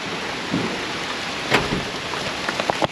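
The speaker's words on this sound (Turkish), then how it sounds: "Yağmur da yağıyor." Steady rain patters and hisses outdoors, with a few louder drops striking nearby surfaces and no voices.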